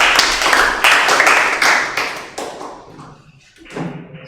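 A classroom of students claps briefly for a classmate, a lively burst of hand claps that fades after a couple of seconds, with a few scattered claps following.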